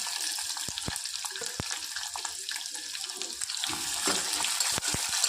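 Onion with crushed ginger and garlic sautéing in a pan: a constant frying hiss under repeated sharp spatula taps and scrapes, close by and with no speech.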